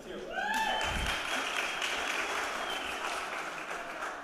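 Audience applause for the Paulus sisters at a Hope Tour event on Long Island, steady clapping from a crowd after a rising tone at the start, with some voices underneath.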